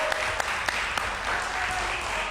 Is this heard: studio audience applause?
yes